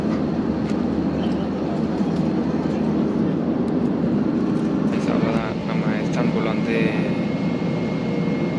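Inside the cabin of an airplane descending to land, a steady broadband engine and air roar drones throughout while a person talks over it.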